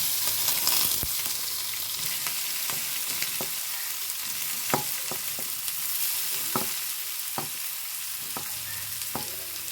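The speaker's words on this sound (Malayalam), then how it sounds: "ഇനി ഞാൻ ഇതിലേക്ക് നമ്മളെടുത്ത് വെച്ച ഇലയാണ് ഇട്ട് കൊടുക്കുന്നത്" Ivy gourd leaves frying in a pan for a Kerala stir-fry, with a steady sizzle and a spatula clicking and scraping against the pan at irregular intervals, heard alone without talk.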